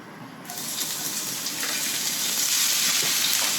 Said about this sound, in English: I am going to saute my aromatics. I'm just going to add some onion, some chopped onion.